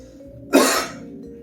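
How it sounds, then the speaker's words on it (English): A single harsh cough, close and loud, in an otherwise quiet moment. "excuse the cough"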